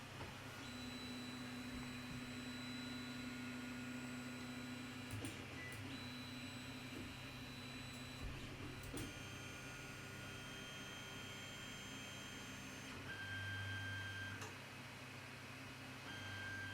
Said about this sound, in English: I'm going to click through the menu here and run the auto home sequence.